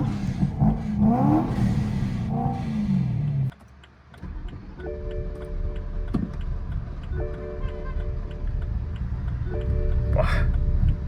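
A 750 hp BMW E90 M3 with a fuel or responsiveness problem cranks and labours to fire, then idles roughly and revs in short rising bursts, with talk over the first part and steady ticking in the background.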